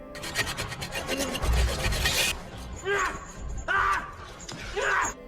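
A hacksaw cuts through a rusty metal pipe: a run of rapid rasping strokes gives way to slower, separate back-and-forth grinding passes, loud and close, with a voice faintly under them.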